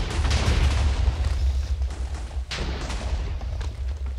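A giant cake blown up in Minecraft: a loud, sustained explosive roar with deep rumbling booms that churn steadily, briefly dipping midway before the blast noise surges again and continues to the end.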